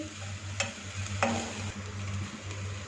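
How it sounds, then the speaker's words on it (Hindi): Green onions fry in a pan over medium flame for a samosa filling, giving a soft continuous sizzle with a low hum and two light stirring clinks, close and fairly quiet, no voices. "इसको 2 मिनट तक मीडियम फ्लेम पे फ्राई करेंगे।"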